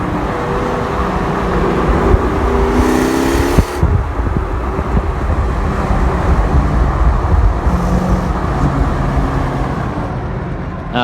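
A loud Mustang GT V8 with off-road X-pipe and stock cat-back exhaust rumbles steadily throughout, with a brief throttle blip near the start and a deep, continuous burble rather than sharp revs.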